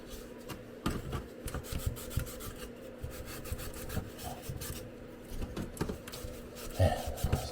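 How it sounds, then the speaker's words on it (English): A rag rubs and scrapes over a laser-cut wooden coaster jig to clear off soot and char, giving a continuous rasping friction with uneven strokes and a few knocks, close up and with no talk. "wipe off some of the soot and the char, just so it doesn't get all over your projects when you drop them in"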